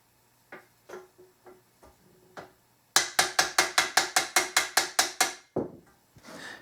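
A trombone F attachment rotor valve, worked by its trigger, clicks as its stop arm strikes the bumpers: a few soft taps, then a rapid, even run of about a dozen sharp metallic clacks, close and alone.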